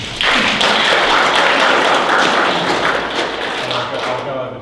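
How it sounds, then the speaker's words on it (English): Applause from the audience at a community election forum in Cooranbong, a dense burst of clapping that starts abruptly, holds loud for several seconds, then tapers slightly. "give them a clap."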